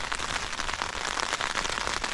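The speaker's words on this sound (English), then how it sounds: "It's sleeting or raining now." Sleet or rain patters steadily on a tent during a wild camp in a Dartmoor snowstorm, a dense, even hiss of drops with no talking.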